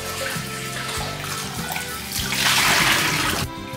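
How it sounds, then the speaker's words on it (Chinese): Water pours and splashes while blanched pork ribs are drained and rinsed in a kitchen sink, a steady running stream that swells louder toward the end. "焯一下水把它倒出来洗干净。"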